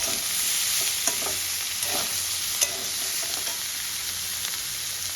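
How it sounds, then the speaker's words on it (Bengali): Steady hiss of vegetables frying in a pan for vegetable korma, with occasional soft clicks of stirring, no voices. "সবজিগুলো ভাজা হয়ে গেলে আমি পনিরটা আলাদা ভেজে নেব"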